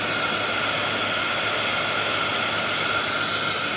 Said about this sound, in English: put a barrier between the amount of air that blows out of your heat gun and the embossing powder